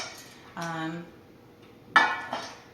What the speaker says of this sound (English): It's a really heavy pan along with a very heavy handle, nice handle.